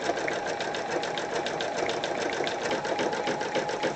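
An embroidery machine runs steadily on its own, stitching a triple stitch border around the outside edge of a motif on a pencil case, a fast even needle rhythm close by with no talk.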